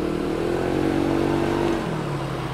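A 110 cc motorcycle engine revs close by, a buzzing drone that climbs and holds steady before dropping back to a lower pitch near the end, heard alone without talk.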